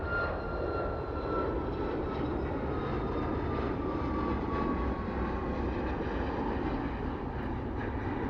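A WestJet airliner passes low over Toronto Airport with a steady, loud jet roar and faint whining engine tones that hold for the whole stretch, with no voices.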